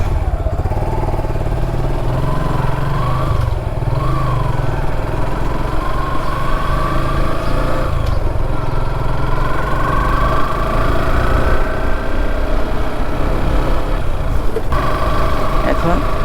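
A motorcycle with about 50,000 km on it idles steadily and loudly close by, a continuous low engine drone with a faint rising whine over it, and no talking over the sound.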